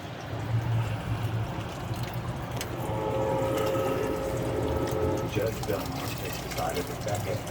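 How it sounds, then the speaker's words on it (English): Soaked guajillo chiles are strained for menudo with red hominy, their soaking water pouring and splashing steadily for several seconds while voices talk in the background. "So you're straining the chiles"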